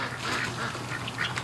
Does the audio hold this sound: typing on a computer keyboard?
no